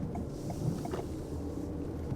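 A facelifted 2024 Toyota Harrier (80 series) gasoline model runs on city streets. Its engine gives a faint, steady low drone from inside the cabin, with no talk over it.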